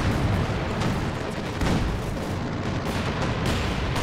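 Artillery fire in Company of Heroes 2 forms a dense, continuous rumbling barrage of overlapping booms and bursts, loud and sustained throughout with no clear gaps.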